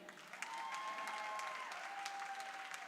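Applause at an NCAA volleyball match between Trinity University and Randolph-Macon, honoring the Tiger parents: a steady, moderately distant crowd clapping that swells after a brief pause and holds for several seconds, with no talking over it.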